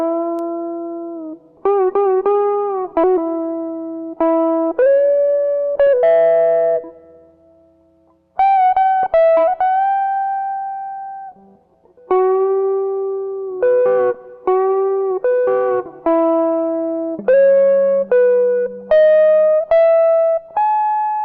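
An electric guitar plays the solo from a song, with clear single-note melodic lines, slides and held notes phrased in short bursts, loud and alone.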